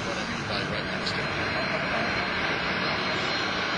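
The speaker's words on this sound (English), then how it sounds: "That's the same airplane, or same model of airplane. It's a Boeing 747." A Boeing 747 passes low over a beach by the end of a runway, its jet engines a steady, loud broadband roar that holds for the whole stretch.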